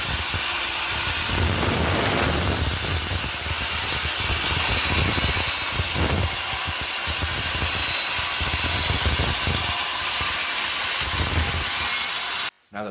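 A panel saw rasps steadily through wood, trimming the ends of a butcherblock countertop, in continuous strokes, close and loud, running without pause before cutting off abruptly near the end.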